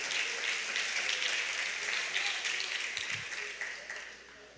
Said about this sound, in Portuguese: Vamos aplaudir ao Senhor também pela vida de Davi ali.